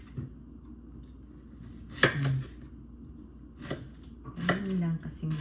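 Knife chopping garlic on a cutting board for pork soup: a few separate cutting knocks with gaps between them, mixed with talking and some kitchen clatter.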